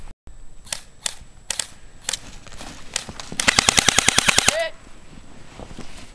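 An ICS L86 A2 airsoft rifle fires a few separate single shots, then a rapid burst of about a dozen crisp, loud cracks, followed by a brief mechanical clack, with no talk.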